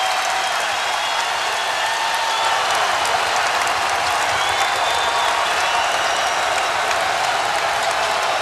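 A packed arena crowd at a Providence vs. Marquette college basketball game keeps up a loud, unbroken roar of cheering and applause from start to finish.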